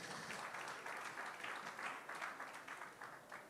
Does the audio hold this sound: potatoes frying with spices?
no